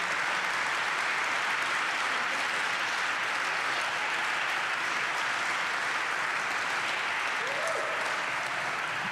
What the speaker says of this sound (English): can you not clap for that